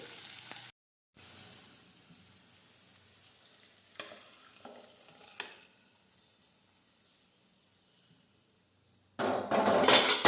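Gujarati cluster bean (guvar) dish tempering, a vaghar of spices in hot oil, sizzling in bursts with brief pauses and a louder, dense crackle of frying toward the end.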